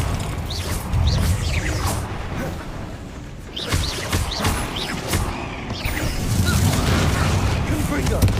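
Blasting spells are cast again and again while fighting in a goblin mine in Hogwarts Legacy, giving repeated booming bursts and crashing impacts over dense combat noise, with a voice talking over much of it.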